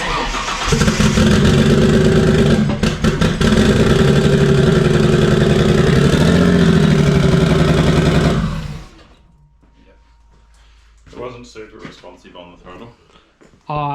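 Barra engine in a drift car running rough on only five cylinders: a loud, throbbing, uneven idle for about eight seconds that then cuts off, followed by quieter clatter and a voice talking.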